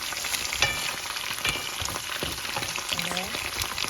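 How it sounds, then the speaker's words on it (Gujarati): Herbal hair oil boiling in a pan over medium heat, giving a steady dense crackling sizzle with scattered pops throughout, heard close and alone. "આપણું તેલ હવે ઉકળી ગયું છે"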